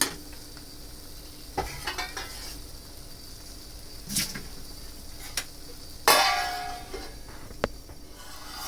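Brinjal cooked with jaggery is stirred in a pan, with quiet sizzling under it. Scattered clinks and scrapes of a metal spatula against the pan come now and then, and a louder clatter arrives near the end.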